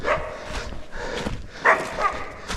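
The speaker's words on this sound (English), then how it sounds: "We have a coyote down there. And he's barking at me." A coyote barks at a trapper down the slope during trapping season, several sharp yaps and whimpering calls spread across a couple of seconds, moderately near, with faint outdoor background and no speech.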